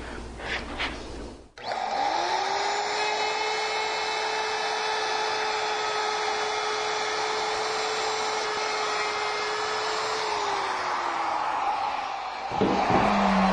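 A handheld router cuts wood for a knife caddy, running as a loud, steady whine for about ten seconds before spinning down, with a short scrape at the start and at the end.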